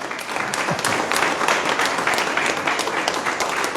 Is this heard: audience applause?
yes